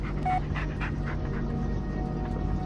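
A dog pants steadily in the horror video game Blair Witch, rapid rhythmic breaths close up over a constant low ambient drone.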